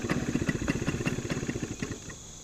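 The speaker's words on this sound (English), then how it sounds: "The bike sometimes idles." A 1975 Suzuki RV-90, a street-legal fat-tire dirt bike, idles close by with a quick, even chugging beat that softens slightly toward the end.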